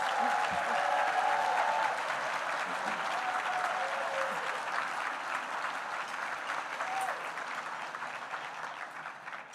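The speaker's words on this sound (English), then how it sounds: "Please, a round of applause" Sustained audience applause fills a hall at a credit union hall of fame induction ceremony, loud and dense throughout, tapering slightly toward the end, with a few voices and faint tones mixed in.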